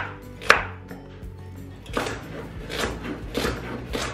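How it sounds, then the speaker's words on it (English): A knife chopping unpeeled carrots into chunky discs on a board, with one sharp early chop and then a quicker run of close thuds and knocks, alone without voices. "I'm going to take some carrots and cut them nice and chunky"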